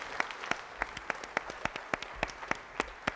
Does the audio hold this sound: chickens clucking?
no